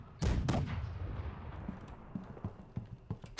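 Ship cannons firing in the naval game Blackwake, two loud booming blasts close together near the start with a rolling rumble after, followed by fainter thuds and deck clatter.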